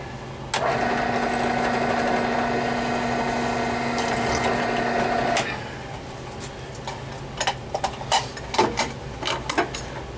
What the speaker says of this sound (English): we're going to go ahead and drill our last hole there